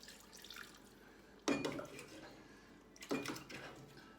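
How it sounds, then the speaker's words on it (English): Homemade beef stock strained into a pot, two short bursts of pouring and splashing liquid, quiet and close, separated by a brief pause. "I'm just going to strain in about 2 cups of that."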